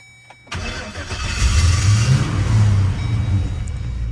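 An LS-swapped Chevrolet Colorado truck cranking on the key with a suspect starter, catching after a brief moment and settling into a loud, steady rumbling idle, close by with no talk.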